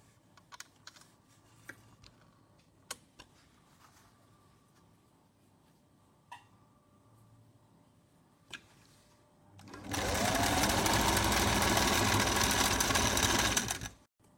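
A sewing machine stitches a folded half-inch shalwar hem in one fast, loud burst of about four seconds near the end, after quiet moments broken by a few small clicks and taps.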